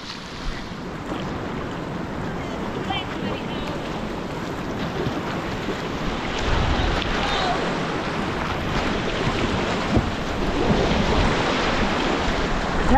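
Rushing river current at Mather Gorge while paddling, a steady broadband wash of moving water and wind buffeting close to the microphone, growing slightly louder midway, with no voices.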